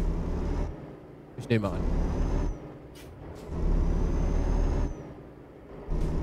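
A Volvo truck releases its air brake with a sharp hiss, and the diesel engine rumbles as it pulls away, with a brief spoken remark over it and a second hiss near the end.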